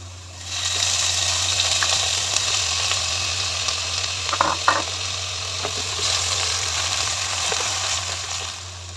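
Shrimp and onions frying in a Miyako multi curry cooker, with a steady hissing sizzle throughout, close and even, a low electrical hum beneath, a couple of brief clinks midway, and no talking.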